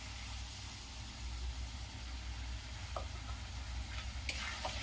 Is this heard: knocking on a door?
no